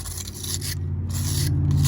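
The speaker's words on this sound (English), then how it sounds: "let's clean up the corrosion off this terminal" Scrubbing corrosion off a corroded battery terminal on a 1998 GMC Sierra SLE, a close, continuous rough scraping with brief gaps between strokes.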